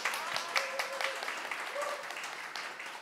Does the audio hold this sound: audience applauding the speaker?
yes